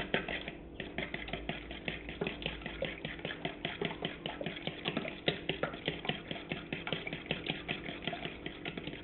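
Eggs whisked fast in a bowl for scrambled eggs, a steady rapid clicking and tapping rhythm that runs unbroken throughout, close and fairly loud, with no talking.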